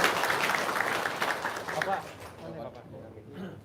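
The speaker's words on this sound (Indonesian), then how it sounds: "Yuk, tepuk tangan dong." Audience clapping fills the first couple of seconds, then thins out and fades as scattered claps and a few voices remain.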